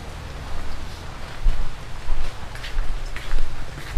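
Steady rain falls outdoors, a continuous broadband wash with faint, scattered drop transients and no voices over it.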